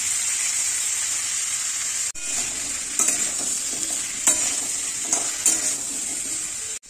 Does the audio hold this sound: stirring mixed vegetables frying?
yes